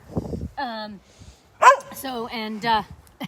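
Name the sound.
dog barking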